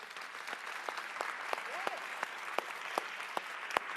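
An audience applauds steadily with dense, even clapping, and a voice briefly rises above it mid-way.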